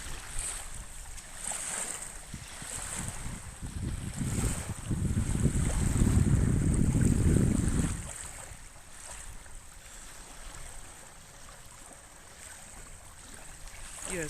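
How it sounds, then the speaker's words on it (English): Steady wash of water with wind noise throughout, swelling louder for a few seconds in the middle before settling back to a soft, continuous rush. "my meditation is the sound of the water"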